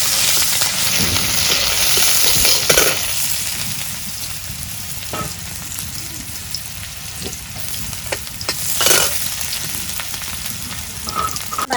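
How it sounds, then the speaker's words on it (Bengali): Chopped onion hitting hot oil in a frying pan while cooking silver carp curry, a loud continuous sizzle that swells and crackles, with occasional utensil clicks and scraping throughout. "এখন আমি পেঁয়াজ কুচি দিয়ে দিই।"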